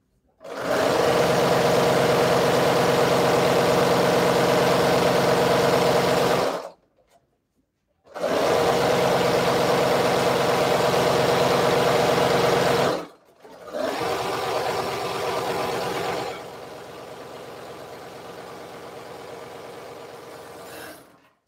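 A serger overlocks the edges of fabric pieces in two long, loud, steady whirring runs separated by a short pause, then a quieter, lower run that fades toward the end.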